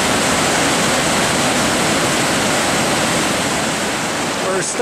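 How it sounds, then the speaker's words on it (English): A waterfall beside the Lake Louise trail roars in a loud, dense, unbroken rush that fills the whole stretch, with no voices over it. "waterfall just off the trail and cascades down for quite some distance down there."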